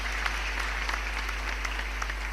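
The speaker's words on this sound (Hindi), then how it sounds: "अपनी तालियों से आदेशित करना" Steady applause from a crowd at a Hindi poetry recital, dense and continuous clapping throughout with no voices standing out.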